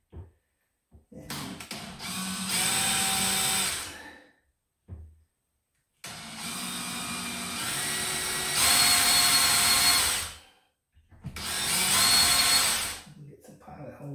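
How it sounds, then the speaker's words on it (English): Power drill boring pilot holes while installing a ClosetMaid closet organizer, three loud close bursts of high whining motor noise separated by short pauses. "I'm going to drill a couple of pilot holes there"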